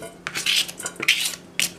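A pet food ingredient is cut up and dropped into a bowl, with three close, scraping knife strokes clinking against the bowl in quick succession.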